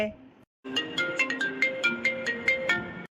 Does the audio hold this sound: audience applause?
no